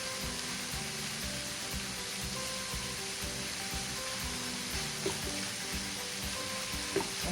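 Steak frying in a pan for a sandwich, a steady broadband sizzle running continuously at moderate level with a couple of faint clicks near the end, no voices.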